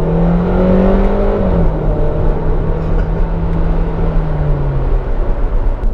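Audi Q2 car accelerating hard, a close engine tone rising in pitch, then dropping briefly at a gear change and climbing steadily again, with loud road and wind noise beneath and no talk.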